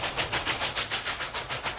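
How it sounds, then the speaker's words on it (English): A Union Pacific train, a Challenger and 844 set, rolls slowly past, its wheels making a steady, rhythmic clickety-clack of evenly spaced beats, moderately loud and close, with no voices. "And so the train is passing by."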